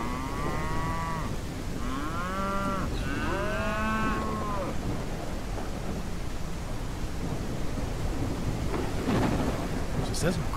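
Several cows mooing in long, drawn-out calls, loud and close, over a steady rush of rain and thunder rumble, followed by a stretch of rain noise alone.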